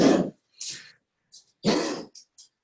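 An old dog with congestive heart failure coughs in a few wet, hacking bursts, close and fairly loud, with short gaps and faint trailing wheezes between.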